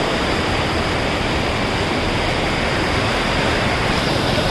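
Rushing stream water on a rain-swollen forest off-road river crossing in Idukki, a dense, even roar of flowing water that fills the scene steadily and loudly, with no voices.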